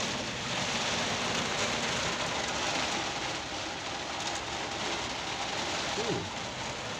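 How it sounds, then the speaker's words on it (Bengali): Heavy rain pours down in a dense, continuous roar with no break, in Krishnanagar. "দেখো ভয়ঙ্কর বৃষ্টি হচ্ছে ভয়ঙ্কর বৃষ্টি"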